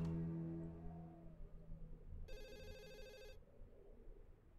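A telephone rings in the horror video game Ju-On: The Grudge, a bright electronic trill lasting about a second, loud and close over a low droning background.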